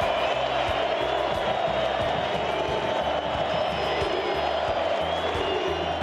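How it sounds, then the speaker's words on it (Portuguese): A football stadium crowd at a São Paulo versus Bahia match applauds and cheers a departing player; a dense, continuous roar of many distant voices and clapping fills the space evenly throughout. "Lugano correu até a torcida, ganhou aplausos."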